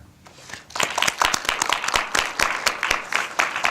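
An audience applauds steadily after a film screening and talk with director Lee Doo-yong, dense clapping from many hands held at an even, moderate level throughout.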